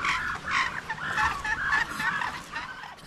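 A flock of farm turkeys gobbles, several rapid warbling calls overlapping in quick bursts nearby, loud and continuous with no talking.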